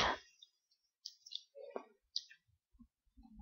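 Computer mouse clicking: several quiet, short clicks spaced irregularly over near silence, with small handling sounds between them.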